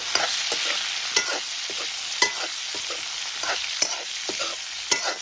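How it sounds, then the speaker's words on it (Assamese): Cauliflower sizzles and crackles with turmeric in hot oil left from frying potatoes while a utensil scrapes and stirs the pan every second or so, close by with no talking. "এতিয়া এয়া আলু ভাজা ৰৈ যোৱা তেলখিনিতে মই কবি ভাজিছোঁ"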